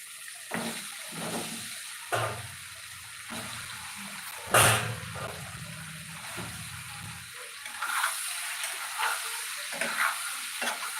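Peeled boiled eggs frying in hot oil with turmeric, with a close steady sizzle broken by stirring and scraping strokes and one sharp spatter or clatter partway through, and no talk.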